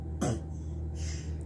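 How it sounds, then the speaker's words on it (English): A young girl gives one short, close cough over a steady low room hum, with no talking. "She covers her mouth when she coughs."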